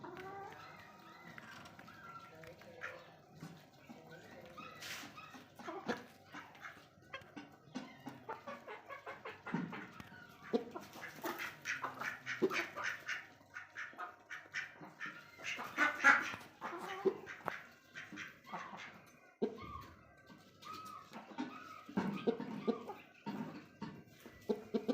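Chickens and a big rooster out in a yard after being fed millet, with clucks and calls scattered over a busy ambient background, moderately loud and close, plus occasional dog-like noises.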